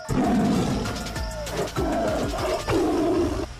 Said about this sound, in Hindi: ये मेल लायन रोर कर रहा है, मेल लायन के रोर है ये।